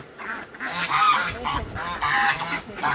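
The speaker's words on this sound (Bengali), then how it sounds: "কিছু হাঁস নেমে যাচ্ছে পানিতে" A flock of domestic ducks entering a pond calls nearby with repeated nasal quacks and honks, overlapping in bursts across a few seconds.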